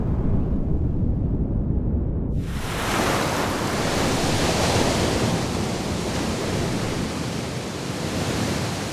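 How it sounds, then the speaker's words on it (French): Big ocean swell crashes onto an atoll reef, a sudden roaring surge that swells into a steady, loud, broadband wash of breaking surf lasting several seconds with no voices. "Rien ne vient freiner la grande houle océanique qui se fracasse majestueusement sur le récif."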